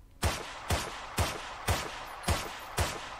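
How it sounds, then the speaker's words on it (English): Six evenly spaced single shots from an SDG-44 weapon in a video game, each a sharp, loud crack with a short decaying tail, firing at a steady rhythm of about two per second with no voices. "this is how the SDG-44 recoils right now"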